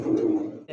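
A large pigeon gives a single short, low coo, close and clear, lasting under a second.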